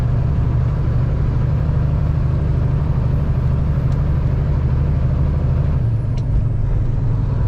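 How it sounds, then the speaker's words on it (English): A truck engine, the one in a Caterpillar CAT 594H pipelayer haul, drones loud and steady as it picks up speed on a very gentle hill, a close continuous low rumble with a slight shift in pitch near the end, no voices. "the truck picks up speed, so it's a hill, but it's a very, very gentle hill"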